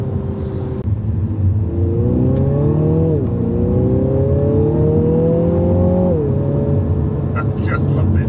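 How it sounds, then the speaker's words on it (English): A car in sport mode with a Remus aftermarket exhaust drones and revs steadily up and down, loud and close, with a brief lift between pulls. "when you really want to crack on and you put it in sport mode, now it's got this Remus exhaust. It just sounds wicked."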